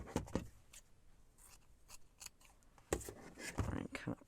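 Scissors snip through a handmade junk journal cover in a crafting session, several short crisp cuts at close range with a pause mid-clip, while a person talks intermittently.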